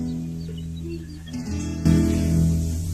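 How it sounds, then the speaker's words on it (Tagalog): Guitar serenade strummed outside a house in an old-time Filipino courtship scene, a steady harmonic strum that swells louder partway through, heard alone without talk. "may naririnig pa sa'yong tunog ng gitara"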